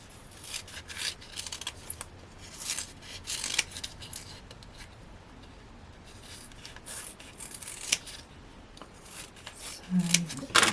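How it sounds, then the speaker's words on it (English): Scissors cutting 1mm foam pads for cardmaking: a series of soft snipping and rubbing strokes in irregular rhythm, close and quiet, with a slightly louder cut near the end. "I'm going to start with some 1mm foam pads, and let me cut these down first of all"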